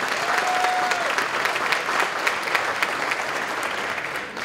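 Crowd applauding during Candace Owens' Blexit speech, a sustained, even wave of clapping from a large audience at moderate loudness, with a brief whistle early on and tapering at the end.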